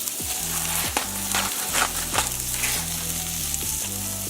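Onions sizzle and fry in a preheated pan with a pinch of salt, a steady close crackling hiss with occasional stirring scrapes, no voices over it.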